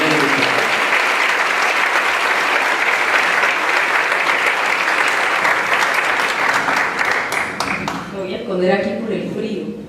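An audience applauds as a speaker is welcomed to the stage, long dense clapping from a large crowd that thins into scattered individual claps before a voice starts speaking near the end.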